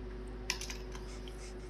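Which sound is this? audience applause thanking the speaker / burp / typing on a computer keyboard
typing on a computer keyboard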